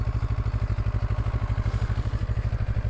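A CFMOTO 700 MT motorcycle engine runs while riding, its rapid, even pulsing thrum loud and close throughout with wind noise above it.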